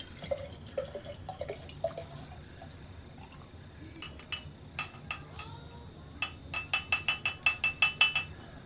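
Orange blossom cedar aged mead is poured into a glass, starting with faint trickling and building into a quick series of clear liquid drips and clinks, soft and close.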